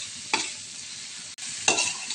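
Garlic butter shrimp fry in a pan with a steady bright sizzle, and two quick scraping stirs rise sharply above it, close and fairly loud.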